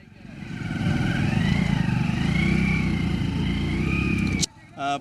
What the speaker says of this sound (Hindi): देख रहे हैं आप ऐसे कच्चे रास्तों में खुद बाइक चला रहे हैं।